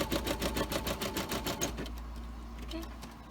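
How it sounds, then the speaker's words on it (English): A Brother embroidery machine stitches a small heart onto a hat, a rapid even rhythmic needle clatter for under two seconds before it drops to a quiet hum and room noise. "let's have it start sewing it out. Just gonna sew out that little heart."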